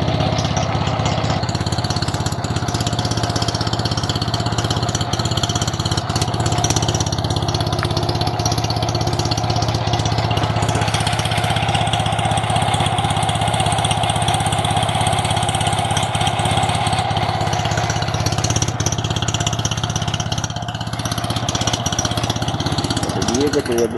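A UD-25 engine fitted with a K-16M carburetor idles nearby in a continuous, unbroken drone that holds a steady level throughout.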